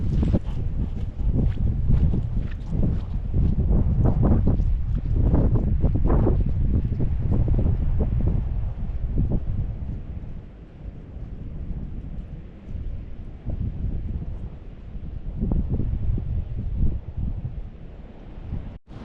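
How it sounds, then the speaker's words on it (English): Strong wind blows outdoors beside a gorse bush, producing a continuous loud rumbling buffet across the microphone that surges and eases over the whole stretch, with no speech. "in some vain hope that you'll be able to hear me despite the wind"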